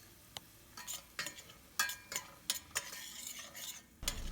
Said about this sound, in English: Give a nice mix.